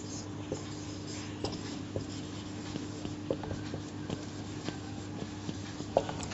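Marker or chalk writing on a board during a class lesson on body fluids and circulation, faint scratchy strokes and taps over a steady room hum, soft and close.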